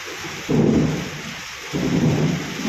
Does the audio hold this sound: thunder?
yes